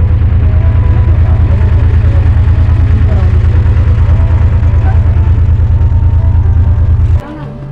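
Motor boat engine chugging loudly and close on the water on the way to Umananda Temple in Guwahati, a steady low throbbing rhythm that cuts out abruptly near the end, leaving a quieter hum.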